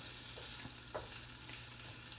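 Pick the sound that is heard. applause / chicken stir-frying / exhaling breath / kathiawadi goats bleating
chicken stir-frying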